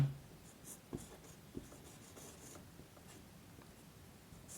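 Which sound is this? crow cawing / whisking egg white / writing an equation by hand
writing an equation by hand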